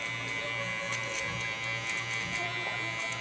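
Electric beard clippers fitted with a one guard hum steadily and close by as they trim a beard, a continuous buzzing drone with slight shifts as the blade passes through the hair.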